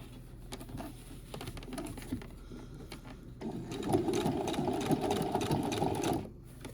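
A sewing machine stitches a basic backpack, quiet rapid mechanical patter that grows louder and busier partway through, then stops abruptly near the end.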